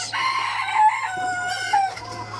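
Egyptian Fayoumi chickens about three months old on a small farm, a close, steady flock sound of clucking and calls running through the whole moment with no talk.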